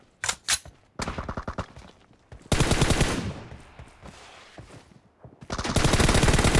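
Rapid automatic gunfire in a team deathmatch shooter, arriving in several sharp bursts separated by short pauses, with a long sustained volley at the end.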